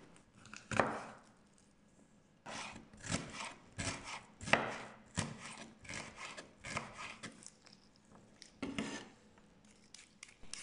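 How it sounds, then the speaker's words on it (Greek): A knife cuts Florina red pepper into cubes on a board, giving a run of sharp, close wooden knocks in uneven bursts, with brief pauses between groups of cuts. "κόβω σε κύβους την πιπεριά φλωρίνης."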